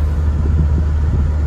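Cars travel fast along a road, making a steady, loud, low rumble that continues without a break and with no single car passing by distinctly.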